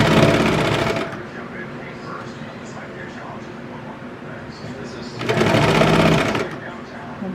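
A home sewing machine hems the sleeves and bottom of a kids' raglan T-shirt, running in two loud, fast whirring bursts of about a second each, separated by quieter room noise.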